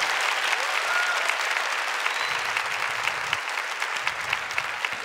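A church congregation applauds enthusiastically inside a Catholic church, dense sustained clapping filling the room at an even loud level for several seconds.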